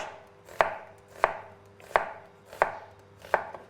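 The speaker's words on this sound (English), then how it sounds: "We're gonna cut it julienne like this, so we get some stripes of onion in our dish." A knife chops through a white onion, cutting it into thin julienne stripes on a board: five sharp, evenly spaced thuds, each with a short crisp slicing tail, close and fairly loud, with no talking.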